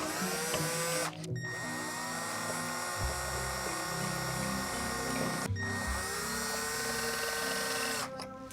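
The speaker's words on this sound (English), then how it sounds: "Now that those holes are drilled" Power drill boring holes in the bottom plate of a Haslab Ghost Trap, two long whining runs with a brief pause between, close and steady, ending abruptly.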